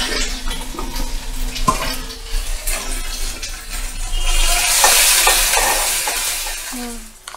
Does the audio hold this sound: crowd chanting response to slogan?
no